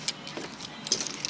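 A crowded keychain jangles in short metallic rattles near a car, close and fairly quiet, with no talking.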